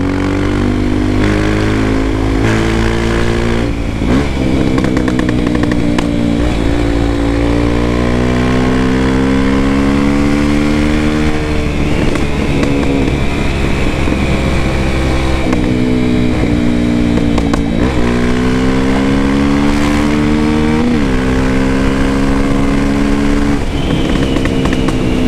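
A Honda XR Tornado motorcycle with a Belparts Classic exhaust revs repeatedly on dirt, its engine note rising and falling in strong sweeps, loud and close, with popping from the pipe between pulls.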